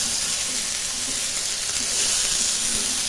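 Green pea paste for kachori filling sizzles steadily in a hot pan while being stirred, a continuous close hiss with faint scraping touches and no talking.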